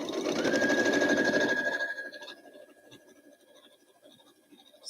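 A sewing machine stitches a foundation paper pieced boot pattern in a close, loud steady run for about two seconds, then stops, leaving quiet handling of paper and fabric.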